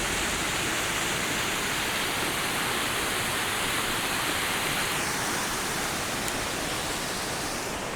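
Loud, constant rushing of a fast-flowing stream swollen by rain in a Bulgarian village, a dense unbroken roar of water close by.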